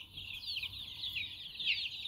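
Brahma chickens and a mass of baby chicks fill the air with dense, continuous high peeping and soft clucks, steady and close, with no talking.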